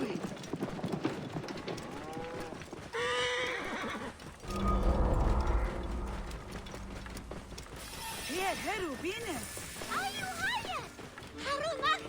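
Horse neighs and clip-clopping hooves from the game Assassin's Creed Origins, the whinnies rising clearly near the end over a busy mix of game sound and scattered voices.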